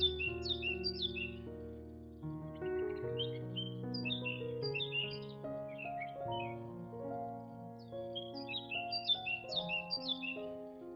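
A bird squawks repeatedly at a rustic backyard feeder in a summer garden, bright harsh calls in bursts over a background of sustained musical tones.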